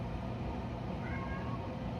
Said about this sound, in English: My cat's freaking out. He's screaming.